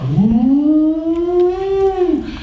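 A civil defense siren sounds a deep, droning tone with strong harmonics that rises slowly, holds steady, then falls off, loud and continuous with no voices.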